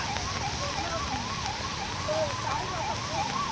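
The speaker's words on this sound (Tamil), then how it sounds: "பாருங்கள் அவசரத்துக்கு ஒரு ஆம்புலன்ஸ் வந்துக்கிட்டு இருக்கு" An ambulance siren wails on a road near the Thamirabarani river in Tirunelveli district, a rapid rising and falling tone repeating at moderate distance over traffic rumble, with a voice talking over it.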